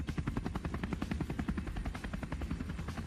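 Police helicopter hovering overhead on a rooftop, rapid steady rotor chop beating evenly and loudly throughout with no voices.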